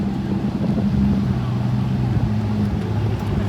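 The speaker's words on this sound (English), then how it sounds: "4 GTs are rolling out." Several Ford GT sports cars roll out together at a car meet, a steady low engine drone with a rumbling idle and a bit of wind noise on the microphone.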